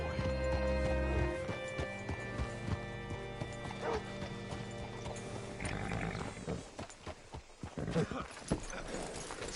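Horse hooves clip-clopping at a steady walk in Red Dead Redemption 2, close by, with an occasional whinny under background music and ambient game sounds.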